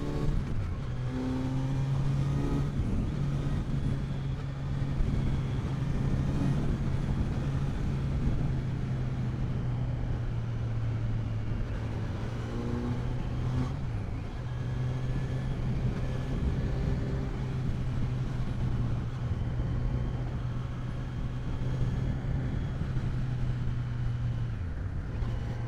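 A 2020 Kawasaki Z900 engine holds a steady, fairly loud drone through a test ride in Mumbai, with brief dips and shifts in pitch as the throttle changes, over constant road and wind noise.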